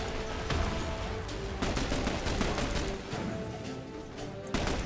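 Chaotic firefight in The Bureau, a shooter video game: a grenade blast among bursts of gunfire and sharp impacts, several loud cracks in quick succession over steady background combat noise.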